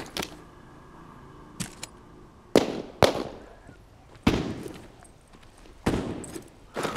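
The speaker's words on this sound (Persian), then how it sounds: "چه با ساتور زدم" Sharp, loud cleaver strikes in The Walking Dead: Saints and Sinners land as a handful of separate impacts spaced a second or so apart, each a crisp crack with a short decaying tail over a low background.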